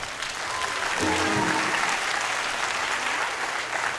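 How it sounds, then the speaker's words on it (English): Audience at the PIN Cultural Show 2023 claps for event sponsors, a full, steady round of crowd applause with a faint voice briefly audible early on. "Let's give them all a round of applause."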